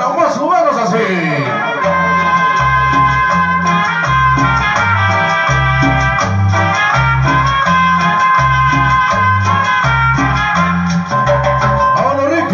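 Cumbia music played live by a sound system at an event in León, Guanajuato, loud and continuous, with a steady bouncing bass line and bright melodic instruments throughout.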